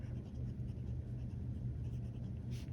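A fine-nib fountain pen scratches softly across paper in close, quiet strokes, a continuous faint rustle with small rhythmic variations.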